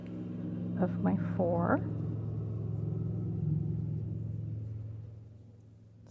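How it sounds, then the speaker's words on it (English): A riding lawnmower cuts grass outside during a thunderstorm, its steady low engine drone humming in the background throughout while a person talks nearby. "son is out there on the riding lawnmower mowing the grass"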